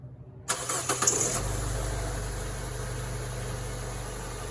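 A Nissan Versa engine cranks briefly after an oil change, catches, and settles into a steady idle that runs on loudly and evenly.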